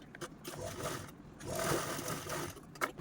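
A sewing machine stitches a folded fabric handle with a close, steady mechanical whir that runs all the way through and rises slightly toward the middle.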